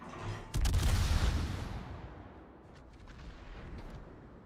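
PVO airstrike explosions in a video game: one heavy blast lands sharply and booms, then rolls off into a long decaying rumble with a few faint crackles trailing after.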